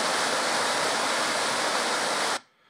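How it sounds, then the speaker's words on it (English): A small waterfall pours in a steady, even rush of splashing water, close and moderately loud, then cuts off abruptly near the end. "It's just a little waterfall."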